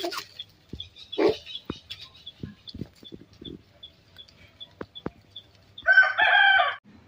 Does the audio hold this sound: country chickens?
yes